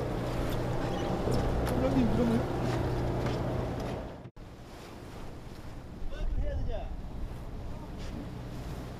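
A boat tossing in high waves of nearly three metres off Dokdo island, with wind buffeting and rushing water surging around the hull; a brief dropout partway through, and a voice may be speaking faintly beneath.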